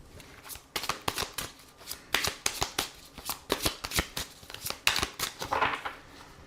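Tarot cards riffled and shuffled by hand in a steady run of crisp, rapid flutters and slaps, close and clear with no talk over them.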